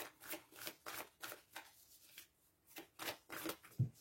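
Tarot cards shuffled by hand in a series of quick, crisp riffling bursts separated by short pauses, close and fairly quiet.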